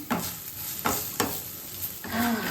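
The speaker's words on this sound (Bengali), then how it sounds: "এবারে ফোড়ন হিসাবে দেবো জিরে ফোড়ন এটা একটু নাড়িয়ে নিই" Cumin seeds temper in hot oil in a pan, a light crackling sizzle with a few distinct stirring scrapes spaced across a short, close stretch.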